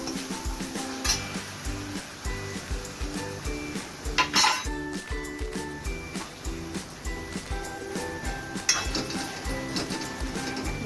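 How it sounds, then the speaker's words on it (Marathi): Tomato and capsicum are stirred into ginger garlic paste in a pan for pav bhaji, with a soft steady sizzle under repeated clinks and scrapes of a spoon on the pan, close and busy throughout. "मी आता टोमॅटो टाकते इकडे आणि सिमला मिरची पण मी इथेच टाकणार आहे. छान परतून घेणार आहे."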